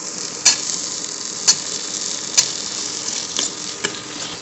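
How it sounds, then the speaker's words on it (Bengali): Tomatoes go into a hot pan while sautéing for an egg curry, giving a steady close sizzle broken by a few sharp utensil clinks against the pan. "আমি এখন এর মধ্যে টমেটোগুলো দিয়ে দিচ্ছি।"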